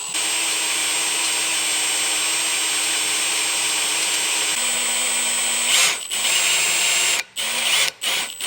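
A power drill drilling aluminum whines steadily and loudly, its pitch dropping slightly as the bit bites, then cutting out in a few short stops at the end.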